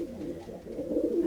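Soft low cooing of rescued pigeons in a foster aviary, a continuous murmur of several birds close by, rising slightly toward the end.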